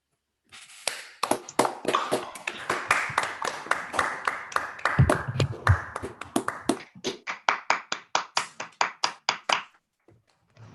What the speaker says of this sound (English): welcome Subhash Khot with applause